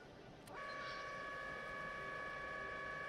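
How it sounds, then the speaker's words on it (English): A helicopter's foghorn in the Stormworks game, on a Super Puma helicopter, blares one long, steady, sustained tone that starts abruptly after a brief click over a low background rumble. "Hold the foghorn three times."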